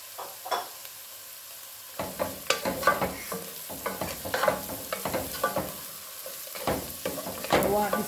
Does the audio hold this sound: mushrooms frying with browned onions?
yes